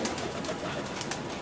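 Red Bombay pigeons at a crowded Dhaka pigeon market, with soft cooing and bird calls blending into steady background noise, no voices in the foreground.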